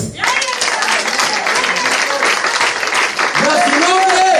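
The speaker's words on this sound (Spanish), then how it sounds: "aplauso, Señor." A church congregation breaks into loud, steady applause during a service, the clapping filling the room for several seconds while a voice calls out over it near the end.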